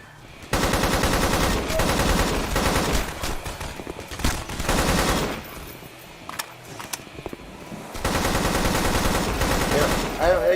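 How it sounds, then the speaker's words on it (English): An AK rifle in the video game Hunt Down the Freeman fires loud, sustained automatic bursts, with a sparser, quieter stretch of scattered shots in the middle before heavy continuous fire resumes. "I swear that's the old AK Counter-Strike sound"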